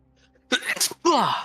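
A single loud sneeze, close to the mic, comes in two sharp bursts: a quick inhale catch and then the full explosive release.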